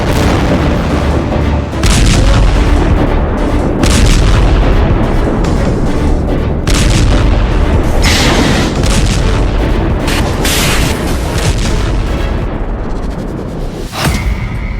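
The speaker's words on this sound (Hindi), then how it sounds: "हिजबुल्लाह ने कई मिसाइल दागी।" Hezbollah missile fire and explosions at the Lebanon border, a loud continuous roar of heavy booms and blasts with a sharp crack near the end, no speech.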